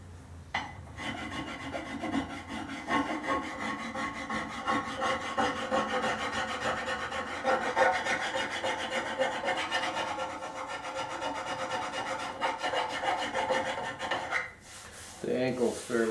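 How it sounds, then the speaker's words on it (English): Steady rasping and rubbing of a hand tool smoothing the rough corners of a cherry wood Chippendale table leg, continuous strokes close up for about fourteen seconds before a brief pause and a few final scrapes. "taking off some of the rough corners that I left with the rasp and"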